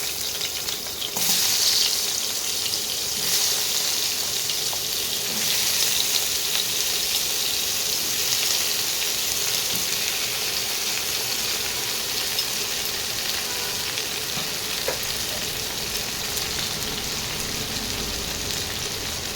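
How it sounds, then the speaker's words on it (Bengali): Mushrooms frying in oil give a steady, close sizzle throughout, with occasional stirring clinks over the continuous crackle. "মাশরুমগুলোকেও একটু এই তেলেতে ভেজে নেব।"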